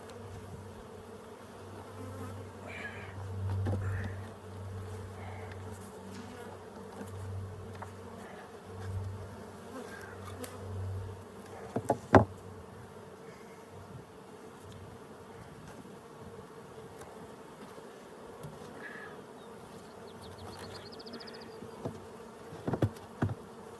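Honey bees buzz steadily in a Colorado bee yard, a continuous low drone with individual bees passing close now and then and a few brief knocks.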